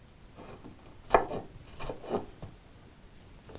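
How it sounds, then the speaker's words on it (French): A knife chops onions into small pieces on a board, a few soft, irregular cuts and scrapes heard close and quiet. "Je vais les couper en petits morceaux encore parce que pour faciliter la cuisson."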